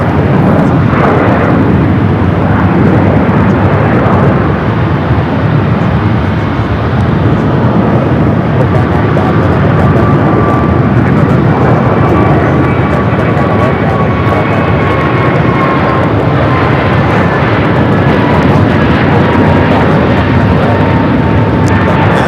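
An airliner touching down at Phoenix Sky Harbor, its engine roar loud and close throughout, with a steady rumbling wash and a faint whining tone drifting through; a voice talks over it.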